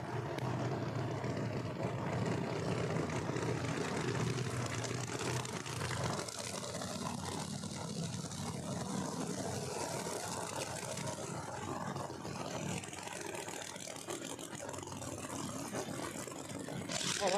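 Drag race cars, including a car called Murder Nova, make a pass down the strip at a no-prep event at Empire Dragway: a loud, continuous engine roar and rumble heard from a distance, sustained throughout without speech.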